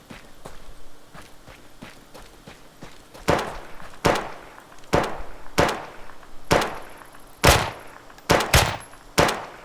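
Pistol shots in the Deadside survival game crack out one at a time at irregular intervals, sharp and close. Faint footsteps and softer distant pops come first, and the shots grow louder toward the end.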